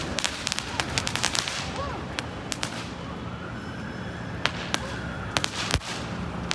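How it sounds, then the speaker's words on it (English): Sharp cracks and pops of firecrackers burst in irregular clusters in San Francisco, some close and loud, others farther off, over a constant outdoor background hum. "This is what happens when firecrackers go bad."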